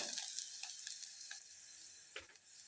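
Frying in a pan for rice bath, a quiet steady hiss of sizzling oil with a few soft stirring scrapes.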